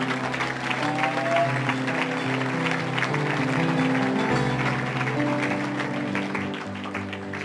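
A church congregation at a night prayer vigil claps and applauds the Lord steadily and loudly, with a sustained crowd roar and music beneath it, the applause fading slightly toward the end.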